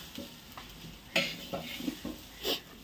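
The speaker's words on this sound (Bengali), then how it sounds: "এখন শুধু কষানোর পালা" Khichuri ingredients of rice and dal being stir-fried in oil in a pot, soft sizzling under intermittent spoon scrapes and metallic clinks, fairly quiet with no talking.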